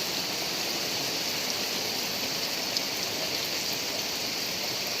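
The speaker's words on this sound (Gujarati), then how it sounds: "આજે ખૂબ વરસાદ પડી રહ્યો છે" Heavy monsoon rain pours down on a village in Surendranagar district, Gujarat, in a dense, steady hiss that never lets up, with no voices.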